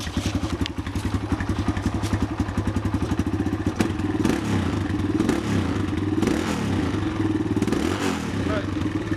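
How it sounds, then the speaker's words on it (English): A 2009 Kawasaki KLX140 L dirt bike engine idles to warm up, a steady, close, rapid thumping putter that turns rougher and clattery partway through, with people talking nearby. "We should just let it idle and just let it warm up."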